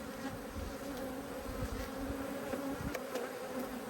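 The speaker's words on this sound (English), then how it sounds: "I can straight away tell we've got a lot of light coloured bees" Honey bees buzz densely around an open hive during an inspection of an agitated colony, a steady close drone of many wings with a few individual bees zipping near the ear.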